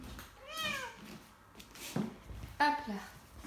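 A house cat meows twice, close and clear, with a person speaking nearby in between.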